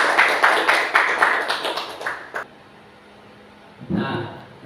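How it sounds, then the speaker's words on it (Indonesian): Children clap their hands in a quick, rhythmic series of sharp claps that stops abruptly. A short quiet follows, then a voice begins talking. "Tepuk tangan untuk kita semua."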